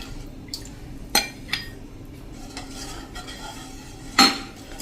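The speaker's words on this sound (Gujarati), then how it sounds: "એ છાશ હવે એડ કરશું. એટલે બિલકુલ આપણી છાશ નહીં ફાટે. અને આ રીતે આપણે કન્ટિન્યુ ચલાવતા રહેશું." A spoon stirs buttermilk into a gram flour mixture in a pot, with a quiet liquid swish and a few sharp clinks of metal against the rim.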